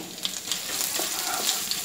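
Urad dal, chana dal and dried red chilies frying in hot oil in a pan, giving a steady soft crackling sizzle with small pops throughout, and no talk.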